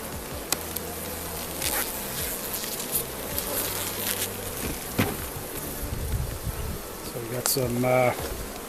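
Honeybees buzz in a steady, dense hum while a hive is opened and frames are inspected in summer, with soft handling taps and knocks over the constant drone.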